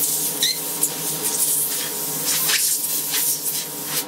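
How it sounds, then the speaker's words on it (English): An airbrush sprays cleaning fluid out in a continuous hiss of air and liquid, loud and close, with slight sputters and fluctuations over a few seconds. "Let it flow through the airbrush, just clean it out."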